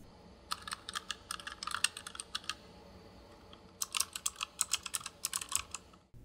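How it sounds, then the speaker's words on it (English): Typing on a Tuf Gaming K7 keyboard with optical mechanical switches, two quick runs of crisp clicking keystrokes close up, separated by a brief pause, with no voices. "Here's an example of how these switches sound."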